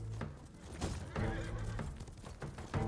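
A horse in Ghost of Tsushima gives a loud, close whinny over rhythmic hoofbeats as it gallops, with the clip-clop running throughout.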